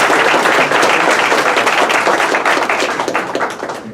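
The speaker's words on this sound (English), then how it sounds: "maybe a round of applause for our" Dense, loud applause fills a town hall, steady sustained clapping from a large audience that thins slightly toward the end.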